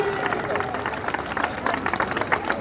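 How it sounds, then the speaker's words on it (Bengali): Scattered clapping from an audience honouring an individual champion at a school sports prize-giving, steady applause mixed with crowd murmur and talk over a loudspeaker. "করতালি"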